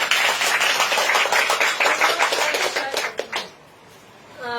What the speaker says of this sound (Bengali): স্যারের জন্য জোরে একটা হাত তালি।